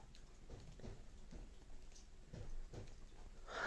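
Light mixed rain and small snowflakes fall outdoors in foggy mountain weather, a soft, faint patter with scattered drops and a slightly louder burst near the end, no voices.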